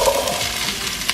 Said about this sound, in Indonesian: kita tumis dulu sampai wangi